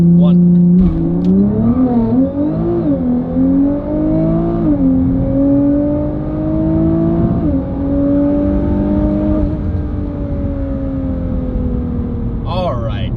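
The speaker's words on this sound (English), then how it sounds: "Now that we've launched the car twice, you've heard the exhaust" A 2019 Nissan GT-R launches hard under launch control, its engine and exhaust roaring close and loud as it climbs steadily through the gears with brief dips at each shift, then eases off near the end.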